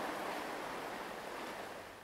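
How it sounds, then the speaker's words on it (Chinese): Ocean waves wash against the shore in a steady broadband hiss that slowly fades, with no voices over it. "乐乐说的刷刷声是海浪拍打海岸的声音"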